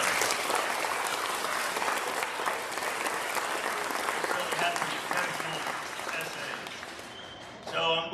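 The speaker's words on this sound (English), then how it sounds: "Let's give them another round of applause" An audience at a middle school Veterans Day program applauds a group of students, with dense, sustained clapping throughout that ends abruptly near the close, where a voice briefly begins speaking.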